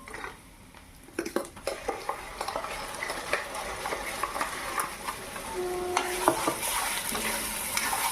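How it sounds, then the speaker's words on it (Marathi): Coconut gravy for a Konkani prawn curry being sautéed in a pan, with a spoon repeatedly scraping and stirring amid a steady close sizzle that grows louder toward the end. "तर आता आपण छान अशी ग्रेव्ही परतून घ्यायची आहे"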